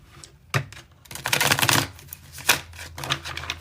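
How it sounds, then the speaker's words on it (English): A tarot card deck is shuffled in a quick riffling flurry of dry, papery clicks and flutters, close and fairly loud, in a few uneven bursts with short pauses between them. "Let me shuffle this deck again."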